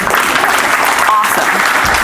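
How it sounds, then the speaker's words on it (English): A live audience at a talk-show style event claps in a steady, close round of applause, with a voice briefly cutting in over the clapping. "Round of applause."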